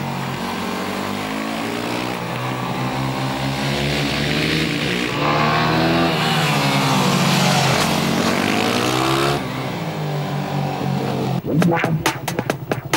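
A Yamaha WRX 250 motorcycle rides through a series of bends, its engine note rising and falling steadily and loud throughout, with a burst of sharp rapid clicks near the end.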